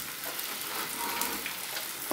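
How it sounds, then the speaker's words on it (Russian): Eggs with spicy cheese fry in a pan, giving a steady, close hiss and crackle of sizzling fat that runs unbroken throughout. "чтобы она прожарилась, вот эти вот желтки, чтобы прожарились"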